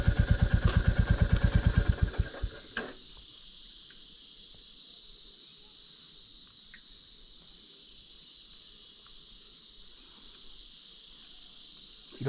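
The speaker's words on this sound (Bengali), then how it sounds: "এরকম গাঢ় ঝিঝি পোকার ডাক একবার বুঝতে পারছেন?" A dense chorus of crickets shrills steadily along a quiet forest road on the route from Phadamchen to Darjeeling. A motorcycle engine thumps rhythmically for the first couple of seconds before cutting out, leaving the insects alone.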